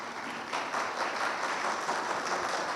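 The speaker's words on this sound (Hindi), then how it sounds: "ताली नहीं बजाएंगे आप?" An audience at a Hindi Christian sermon bursts into sustained applause, dense steady clapping from a crowd filling the room, with no voice over it.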